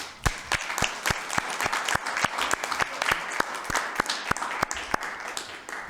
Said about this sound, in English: we can at least give her a round of applause